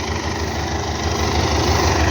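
A tractor engine runs steadily in a hay field on sloping ground, a loud, continuous low idle-like drone with constant vibration and no pauses.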